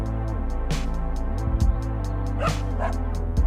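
A dog barks in the city-building game Cities Skylines II, a couple of short yips set over a dense, steady bed of game music and ambience.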